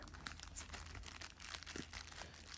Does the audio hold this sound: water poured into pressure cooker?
no